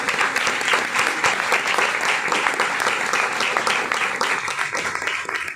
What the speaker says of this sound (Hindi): आए यीशु के लिए जोरदार तालियां देंगे